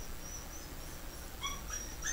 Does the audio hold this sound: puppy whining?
yes